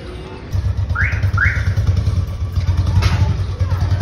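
A motorcycle starts and rides off nearby, its engine a loud, steady throbbing rumble, with a couple of brief rising tones and a clatter over it.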